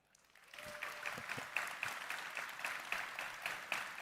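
A packed house at a Bitcoin conference in Nashville breaks into applause, rising quickly from near silence into sustained clapping with a few sharper individual claps and cheers mixed in, moderately distant in a large hall.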